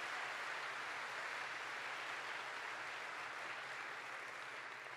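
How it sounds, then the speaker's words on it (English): An audience at a university welcome session applauds in a steady, dense wash of clapping that holds at an even level throughout, somewhat distant, with no speech on top. "would you give him a warm round of applause"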